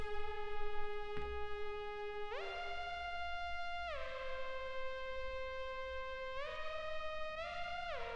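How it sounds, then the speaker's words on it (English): A bright, harmonically rich Serum synth preset lead plays a slow melody of sustained notes with gliding pitch changes, alone and steady in level. "We got Cocoa, which is a serum preset, and it sounds something like this."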